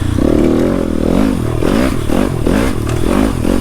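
A dirt bike motorcycle rides single-track on the South Holton Loop trail in Michigan, its engine droning loud and close and steadily revving throughout, with a varying pitch as the rider works the throttle.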